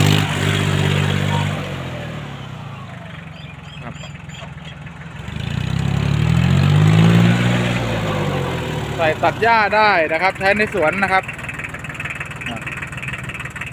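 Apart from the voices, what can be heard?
Kubota L1802DT tractor engine idling at lowest speed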